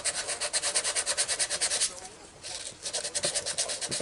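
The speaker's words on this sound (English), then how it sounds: "if I sand these" Sandpaper rubs back and forth on a small resin model part for a sandcrawler build, making quick rhythmic scratchy strokes up close that pause briefly in the middle and then resume.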